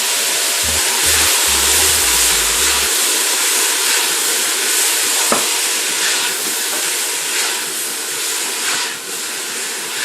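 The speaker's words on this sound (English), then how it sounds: "Go ahead and stir our vegetables again." Vegetables cooking in melted garlic butter for shrimp Creole, giving a loud, steady close hiss of sizzling with a few stirring scrapes and one sharp knock against the pan, no voices.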